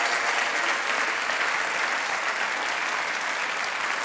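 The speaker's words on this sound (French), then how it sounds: "Il y a des applaudissements du concert qui s'était enregistré." Concert audience applause, recorded rather than live, filling the whole stretch as a dense, steady wash of clapping with no letup.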